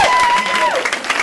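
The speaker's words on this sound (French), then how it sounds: "Applaudissez s'il vous plaît le deuxième, Dorian Le Gaillard." A crowd at a cadet cycling road race in Noyal-Châtillon cheers and claps for the second-place rider in a brief burst, with a whistle-like tone rising over the noise near the announcer's mic.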